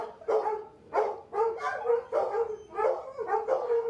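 Several dogs bark in repeated bursts, loud and close, about four sharp volleys in quick succession with short gaps and no talk over them.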